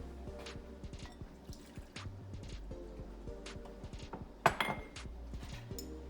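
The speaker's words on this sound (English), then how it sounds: "The adult will take it out of the microwave and pour it into the borax bowl." Hot liquid from a microwave is poured into a bowl of borax while making therapy putty: quiet, close dripping and trickling with a few light clinks, and a sharper splash and clatter near the end.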